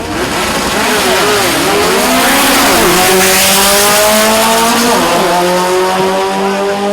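VW drag cars making a pass at Mason Dixon Dragway during VW Nationals, engines screaming loud and close with rising revs and shifting pitch sweeps, rapid upshifts, sustained roar throughout.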